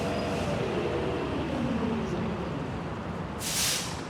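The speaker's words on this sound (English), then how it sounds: "It does have very loud train sounds." Loud train noise from the commuter-train game Overcrowd: a constant rumbling rush with a sharp hiss of air near the end, and no one speaking.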